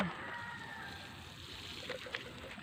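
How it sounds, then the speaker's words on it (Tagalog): Water from a river is poured onto chili and eggplant plants, giving a steady close splashing and trickling wash that runs on unbroken, with a few louder sloshes near the end. "Aring tubig na ari guys ay walang chlorine. Gawa ng inigib ko ito doon sa ilog."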